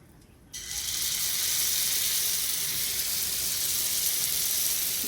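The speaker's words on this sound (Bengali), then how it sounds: "এবার আমি এই তেলের মধ্যে অল্প অল্প করে যে মিশ্রণটা করেছি সেটাকে দিয়ে দেবো" A rice-water and starch batter hits hot oil and bursts into a loud, steady sizzle that holds close and constant after a brief quiet start.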